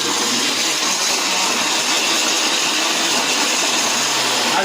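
A kitchen blender whirs loudly and continuously as it grinds slices of bread into fishing ground bait, a dense, unbroken mechanical drone.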